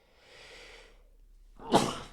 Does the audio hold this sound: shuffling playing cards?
no